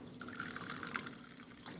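Carbonated sparkling water fizzing with large bubbles, a continuous close hiss of tiny pops and crackles with a few brighter snaps, heard alone.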